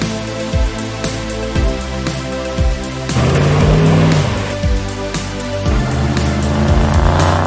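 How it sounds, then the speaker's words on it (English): A 2010 Dodge Ram 1500 off-road truck drives with a loud, steady engine drone whose pitch climbs and falls through gear changes, rising to a harder rev midway before easing back. "this is my 2010 Dodge Ram that has seen its fair share of off-roading"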